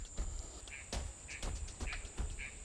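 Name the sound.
frogs calling in the background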